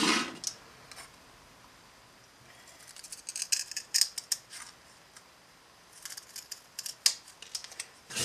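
A blade cutting through very thin plywood by hand, giving quiet, irregular snips and crackling clicks in short clusters against a near-silent background.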